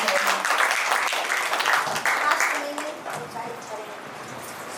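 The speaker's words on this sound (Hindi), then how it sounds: "इनके लिए जोरदार तालियां।" Applause from the audience at a cultural gathering, dense clapping and crowd noise that fades to a lower murmur toward the end.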